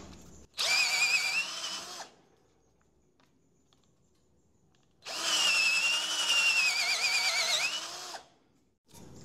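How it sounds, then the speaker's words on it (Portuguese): A Titanium 12V cordless drill fitted with a 3/4-inch spade bit runs in two bursts of about one and a half and three seconds, each a whining motor that rises and dips, with quiet gaps between them. "Uma broca chata de 3 quartos, função furadeira."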